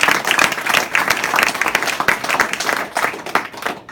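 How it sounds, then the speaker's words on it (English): A crowd at a City of Surrey civic awards ceremony claps for the winners, a dense, steady round of applause filling the room without a break. "I'll ask you to just join me one more time in a big round of applause"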